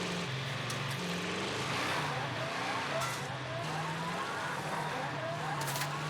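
A vehicle in the Warzone video game drives with a rising and falling engine drone and tire squeal, loud and close, with faint gunfire-like pops and game effects around it.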